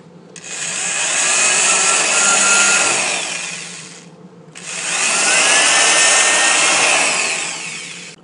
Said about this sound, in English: We are now drilling the roof together.